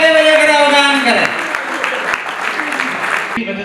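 Loud applause from an audience at a jewellers' association swearing-in ceremony for new office bearers, a dense steady wash of clapping that follows a voice heard briefly at the start.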